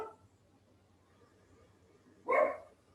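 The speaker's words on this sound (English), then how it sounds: "And you're going to hear my dogs." Dogs in a home bark during a yoga session, one short, loud bark near the end after a faint sound at the start, over quiet room noise.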